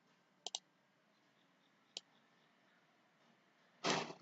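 A computer mouse clicks sharply, a quick double click followed by a single click, faint and isolated in a quiet room, then a brief soft rustle at the end.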